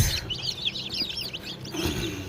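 Several young chicks cheep in quick, high, wavering peeps, a busy cluster of calls close by over low background rustling, fading briefly near the end before resuming.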